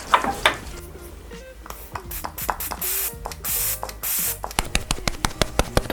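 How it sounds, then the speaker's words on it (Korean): Glint by Bidibob makeup fixer spray is pumped onto a cushion puff in a string of short, sharp hissing sprays, close and fairly loud, with a few longer bursts mid-sequence. "여기에다가 메이크업 픽서를 좀 뿌려줄 거예요."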